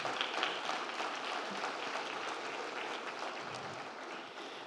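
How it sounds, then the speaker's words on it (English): Audience applause for students at a school district board of trustees meeting fills the room, a steady dense wash of many hands clapping throughout, fairly close and even in level. "So let's give them another huge round of applause."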